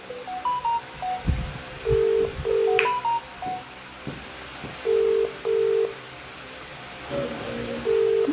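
A phone call rings out unanswered: a string of dial and ringback tones, some steady and some stepped, repeats over several seconds against a faint hiss, with no voice picking up.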